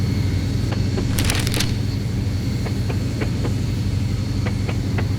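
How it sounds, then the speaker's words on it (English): A steady low diesel train engine rumble in the video game Mashinky drones throughout, with faint rhythmic clicks ticking along on top and a brief bright jingle near the start. "The diesel, obviously you can hear the clicking sound on the diesel."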